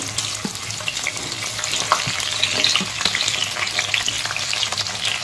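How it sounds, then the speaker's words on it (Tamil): Whole onions frying in hot oil for an eggplant kuzhambu, a steady loud sizzle with crackles and occasional stirring clatter throughout, no talking. "எண்ணெய் நல்லா காஞ்சிருச்சு வெங்காயத்தை இந்த மாதிரி முழுசு முழுசாக போடுங்க"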